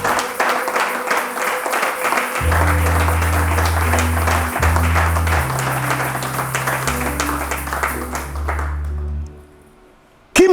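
A church congregation applauds and cheers for a long stretch at steady loudness, with a low sustained organ or keyboard chord underneath, before the sound drops away near the end.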